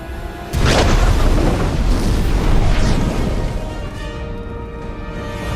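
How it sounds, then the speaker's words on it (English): A ship suddenly explodes with a loud boom, followed by a long rumbling, crackling tail that slowly fades. "The ship explodes and we're expected to believe that Zuko is dead."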